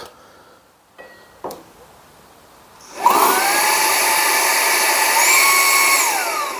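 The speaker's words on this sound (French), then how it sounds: "Ici, je mets l'aspirateur. Et maintenant, on va regarder ce que ça donne." A mini cordless vacuum cleaner, a 2-in-1 vacuum and blower, switches on after a few faint clicks and handling noises, then whines steadily and loudly at close range, its pitch dipping and rising slightly as it works.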